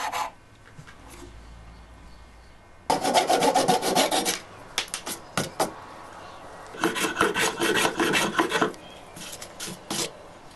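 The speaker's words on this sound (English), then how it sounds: "make some little notches around the outside just for extra grip" Hand filing of small grip notches around the rim of wooden vise handles on a twin-screw Moxon vise, heard as bursts of close, dry rasping strokes in two long runs with short pauses between.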